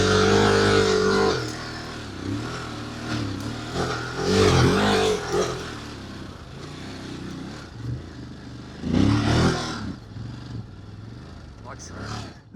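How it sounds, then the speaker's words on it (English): Motorcycles out on the soft red sand of the Big Red dune in the Australian outback, engines revving and swelling in bursts as they draw nearer, mixed with a voice talking over them. "The bikes are getting closer."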